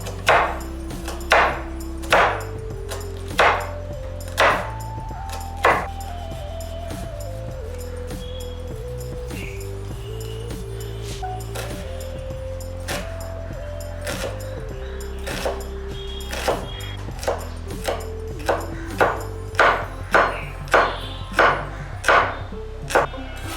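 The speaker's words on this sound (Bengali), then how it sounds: "পেঁয়াজটা খুব ছোট ছোট চৌকো আকারে কেটে নেব" A knife chopping onion into small cubes on a board, a long run of sharp, close taps in a steady rhythm, set against a soft background melody.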